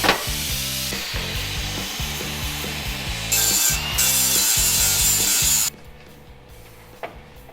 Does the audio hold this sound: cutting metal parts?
yes